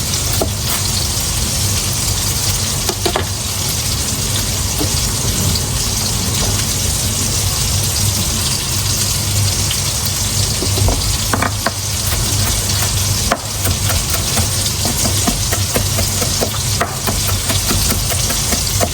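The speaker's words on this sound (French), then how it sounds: "Pendant que nos boulettes sont en train de cuire" Chicken parmesan meatballs fry in a pan, a loud, constant sizzle and crackle that fills the scene, with occasional soft scrapes as they are turned.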